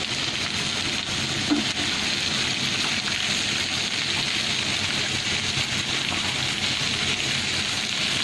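Steady, dense sizzling of shrimp and tomatoes frying in hot mustard oil, continuous and fairly loud throughout with no talking.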